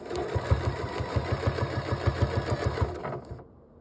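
A home sewing machine stitching a quilted purse lining runs in a steady, fast mechanical chatter of needle strokes, close and clear, then stops abruptly near the end; no talking.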